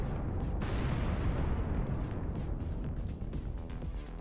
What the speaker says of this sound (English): A Russian tank spotted by a Ukrainian reconnaissance drone hit a mine and completely detonated.